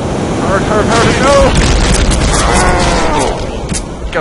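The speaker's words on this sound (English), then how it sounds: "that explosion is loud" A loud, booming explosion in the game Happy Wheels, with rumbling low end and crackling debris, mixed with other game sounds and a voice speaking over it.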